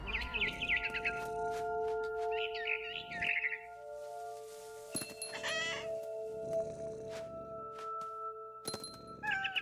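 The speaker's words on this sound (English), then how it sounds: "Then I heard chirping outside my window. It was a barn swallow going back to her nest." A barn swallow chirps near a window and nest in What Remains of Edith Finch, bright short tweeting bursts over steady tonal game ambience, with a few sharp clicks and thumps in between.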